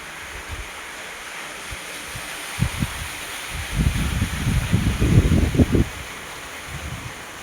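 A river's rushing water flows steadily, swelling into louder, churning surges midway before easing, heard outdoors with some wind buffeting the microphone.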